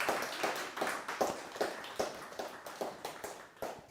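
Audience at a design symposium clapping, fairly faint and rhythmic with a steady series of even claps over a few seconds.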